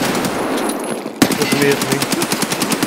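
Automatic gunfire in the video game Escape From Tarkov rattles off in a fast, loud, evenly spaced burst after a single sharp shot, with a brief spoken line over it.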